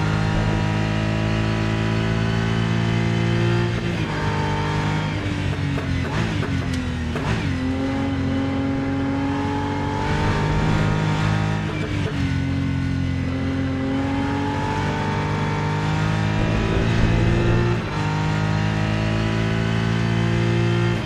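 Race car engine in the Rennsport racing video game, a continuous close, loud droning roar that rises and falls in pitch through gear changes and shifts in speed for about twenty seconds.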